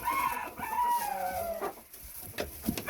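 Phoenix chickens at Medina Farm crowing, with a loud drawn-out rooster call over nearby clucking and other fowl noise on the farm.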